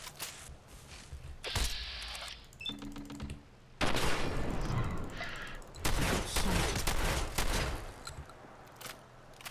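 Gunfire from the player's weapon in the Fallout video game, with bursts of loud shots scattered across the clip among clinks and game noise.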